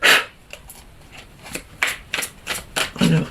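Tarot cards are handled, shuffled and laid out during a reading, giving a series of soft papery swishes and light slaps at an uneven pace, close and fairly quiet.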